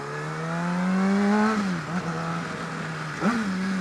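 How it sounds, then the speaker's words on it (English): Manual-transmission car engine blipping the throttle to rev-match on a downshift into first, a steady idle drone swelling into a rising rev, dropping, then a second short blip near the end; close and loud, no talk. "See, I just rev matched into first right there."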